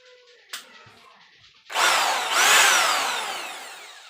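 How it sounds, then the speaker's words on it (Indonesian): Bosch three-function rotary hammer drill, faulty with its hammer action not working, briefly spins up after a sharp click, then a loud, broadband whirring burst that rises and slowly winds down. "kita coba drill kok"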